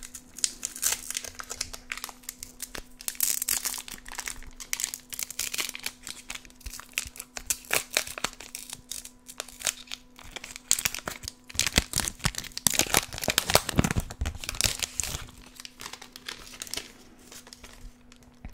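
Pokémon GO booster pack having its foil wrapper opened, close crinkling and crackling with bursts of tearing, loudest toward the middle, no voices.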